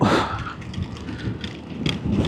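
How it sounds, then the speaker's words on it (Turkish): Rain falling during a mountain ride near Latmos, a soft hiss of drops mixed with gusty wind rumble and bursts of noise, fairly close and uneven. "Allah'tan aşağıya doğru indikçe az böyle hafifliyor yağmur."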